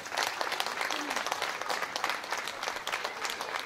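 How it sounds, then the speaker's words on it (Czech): An audience at a children's folk festival applauds young singers with dense, steady clapping that fills the whole stretch at an even level and fades slightly near the end. "Ještě jednou jim zatleskejme."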